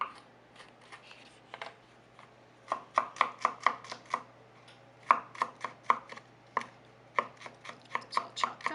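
A knife chops three garlic cloves on a cutting board in quick, crisp bursts of rapid taps separated by short pauses, close and clear with no talking.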